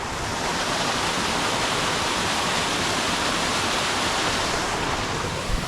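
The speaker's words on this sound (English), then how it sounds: "There's this giant waterfall to my right." A giant waterfall beside a steep ridge ravine in New Hampshire pours with a loud, constant broadband roar, unbroken throughout and close by, with no voices.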